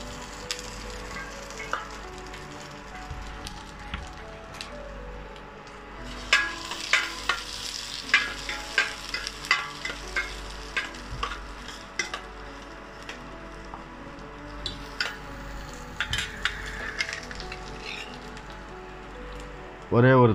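Chopped onion frying in a spoonful of oil in a pan, stirred with a spoon; a steady soft sizzle runs throughout with sharper scraping clinks of stirring in the middle and end, no talk over it.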